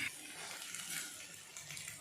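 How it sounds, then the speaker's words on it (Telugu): Water pours into potato masala curry in a cooking pan, a quiet continuous splashing gush that holds steady without talk. "వేగిన తర్వాత కొద్దిగా వాటర్ పోసుకుందాం"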